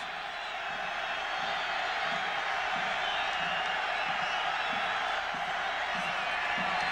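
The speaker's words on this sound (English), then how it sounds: "Crowd helping out here for the Bronco defense." Football stadium crowd at a Boise State versus Idaho college game roars continuously for the Bronco defense, a dense distant wash of cheering under a commentator's voice.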